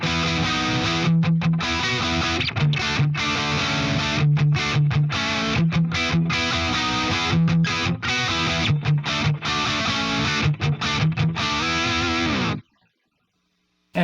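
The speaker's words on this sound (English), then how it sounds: "this is an awesome delay" Electric guitar played through a delay pedal that sounds rack-like with reverb-style tails: loud, distorted chords and notes repeat and smear into one another for about twelve seconds, then cut to near silence.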